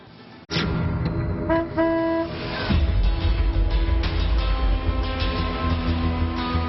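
Car horns honk repeatedly in short bursts over busy Mumbai traffic noise, with engines rumbling in the background.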